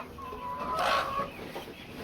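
A Japanese bantam chicken on a small poultry farm gives a short, faint cluck that rises to a brief squawk midway, set against quiet farmyard background.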